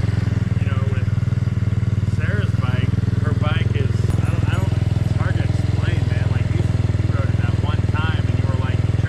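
A Venom X18R 200cc motorcycle engine runs steadily at a low idle throughout, close and constant, with people talking over it.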